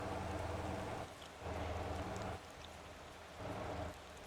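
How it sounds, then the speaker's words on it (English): Steady rain falling in the Motor Town driving game, a dense broadband hiss of drops that swells and eases in waves, with a faint low rumble underneath and no voices. "Oh, it's raining now."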